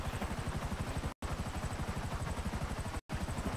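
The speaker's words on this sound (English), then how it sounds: "I should actually fly the helicopter and have one of you send it to me." A helicopter in GTA V flies with a steady, loud rotor chop at an even rhythm, filling the soundscape with only two brief cutouts and no talking.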